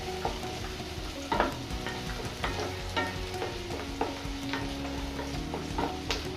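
Onions frying in a pan for a mushroom curry, with a steady sizzle underneath and a spoon scraping and stirring at irregular intervals, moderately quiet and with no voices.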